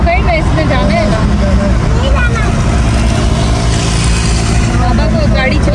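A car drives along a road with a loud, constant engine and tyre rumble heard from inside, while people chat in Hindi-Urdu over the noise.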